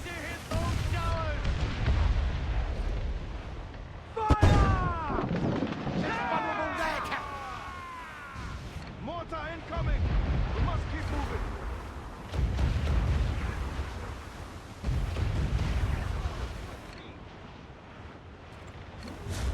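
Ship cannons in Assassin's Creed Black Flag boom repeatedly at towers, heavy low blasts landing every few seconds amid wind and sea noise, with shouted voices and crew chatter in between.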